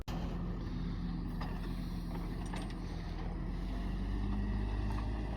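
Farm truck driving across a dusty field at ploughing time, a steady low engine drone and rumble that holds even and unbroken throughout.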